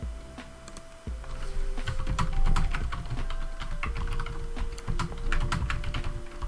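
Tarot cards being shuffled during a solo tabletop roleplaying game, giving rapid, dense clicking and riffling flutters up close, continuous over several seconds with a faint background hum.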